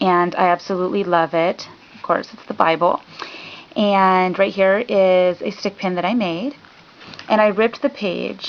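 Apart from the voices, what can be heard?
No distinct noise like a dog, phone or traffic.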